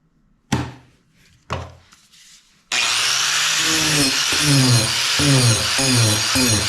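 A Bauer 4-inch carbide carving disc on an angle grinder gives two short bursts, then bites into oak in a loud continuous grinding rasp with rhythmic pulses as it sweeps across the wood.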